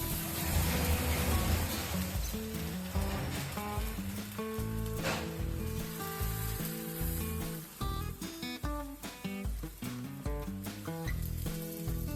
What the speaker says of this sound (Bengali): ব্যাটারটা হালকা করে চাড়িয়ে নেবো